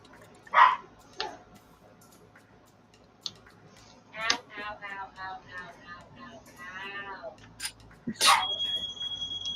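Dogs barking inside a house, scattered sharp barks and yelps mixed with intermittent talking and household noise, moderately close but not loud.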